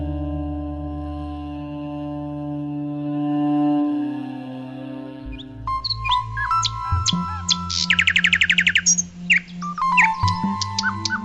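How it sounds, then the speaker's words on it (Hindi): Birds chirp and tweet in a quiet village at dawn, a run of bright, rapid calls coming in partway through over a steady low tonal drone. "पक्षियों की आवाज फिर सुनाई देने लगी।"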